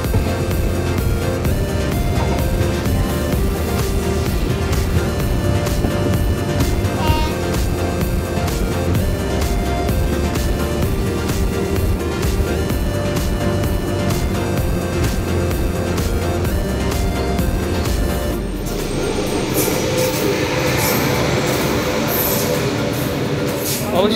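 The Sealdah–Jalpaiguri Road Express pulls into platform 1 at Aluabari Road Junction, heard from on board as a loud, steady rolling rumble with rhythmic wheel clatter that drops to a quieter hiss as the train comes to a stop.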